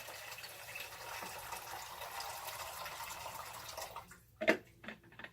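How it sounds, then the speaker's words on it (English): Rinse water from developing expired black and white film is poured down a drain, a steady quiet splashing stream for about four seconds that stops, leaving a few brief drips and splashes. "let's get rid of this water here"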